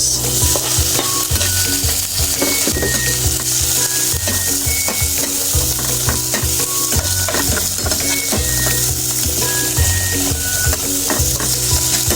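Tomatoes frying in a pan for an omelette: a steady, loud sizzle runs continuously throughout, with scraping of a utensil stirring, and no talking.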